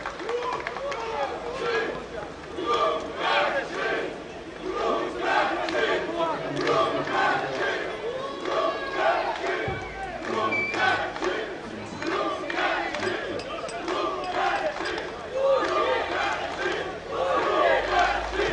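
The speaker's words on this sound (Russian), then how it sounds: "Пытаются болельщики Промкачева перекричать местных" Rival fan groups chanting and shouting from the stands at a Belarusian football match, Krumkachy supporters trying to outshout the home crowd, a dense continuous roar with rhythmic surges throughout.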